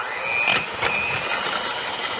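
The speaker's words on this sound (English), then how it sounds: "you can simply add your spices and then use a hand mixer" Close whirring buzz of an electric hand mixer shredding meat with spices, its motor note wavering as the beaters catch and pull through the meat, steady over a couple of seconds.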